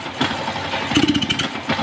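A motorcycle engine with a sputtering, misfiring fault, its running note stumbling and surging in uneven pulses across a brief stretch, heard close with no talk.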